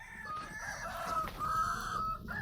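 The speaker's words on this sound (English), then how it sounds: "Yes, that's a rooster." A rooster crows in a single drawn-out, wavering call of about two seconds, moderately faint and somewhat distant, with no talk over it.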